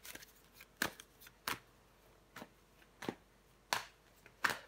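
Tarot cards handled and laid down on a table: a series of about seven sharp, close papery slaps and flicks at irregular intervals over a quiet background.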